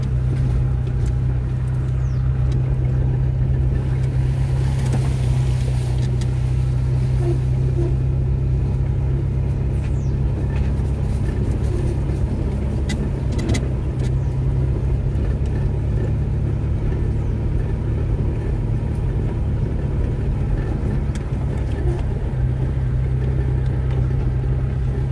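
Vehicle driving along a rural street in the parcels of the Zapotitlán valley, El Salvador, a steady close engine rumble and road noise continuing without pause.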